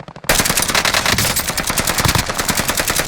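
Rapid automatic gunfire from the Call of Duty Warzone video game rattles loud and close in a continuous burst, dense rapid shots filling the whole stretch after a brief quiet start.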